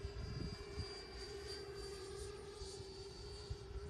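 An FMS Futura v3 sport jet RC model on landing approach, with a steady electric ducted-fan whine held at a constant pitch, moderately distant and fairly faint, with no talk.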